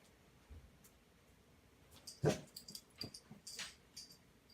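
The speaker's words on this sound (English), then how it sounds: "My dog she be ready to go as soon as I get up." A dog whines and gives short growls and yips, fairly faint at first and then a cluster of louder close whimpers and grumbles in a quiet indoor room.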